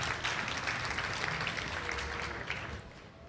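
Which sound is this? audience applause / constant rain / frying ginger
audience applause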